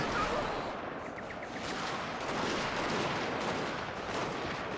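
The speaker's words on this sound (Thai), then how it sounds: "อืมคนปืนเรายิงดีมากครับไล์อินฟันทรีทำงานได้ดีมากครับผม" Line infantry rifle fire in a Total War: Shogun 2 Fall of the Samurai battle, a dense, continuous crackle of overlapping musket volleys and distant booms, steady and loud throughout with no voices.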